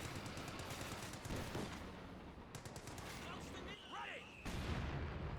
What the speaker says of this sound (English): the mortar's doing some great work